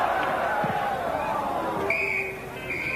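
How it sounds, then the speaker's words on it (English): At the end of the 1987 Rugby World Cup match between France and Zimbabwe at Eden Park, a referee's final whistle gives two clear blasts over a steady stadium crowd roar, with a commentator talking. "has whistled no side"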